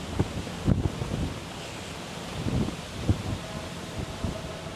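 Wind gusts through a big park in Manila, buffeting the microphone with steady rushing noise and occasional sharper bursts, with no voices.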